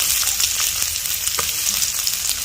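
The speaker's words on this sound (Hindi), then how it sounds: "प्याज को भी हमने डाल दिया है।" Chopped onion fries in a pan for a dal tadka, giving a loud, dense, continuous sizzle close up, with a few light scrapes of a spoon stirring it.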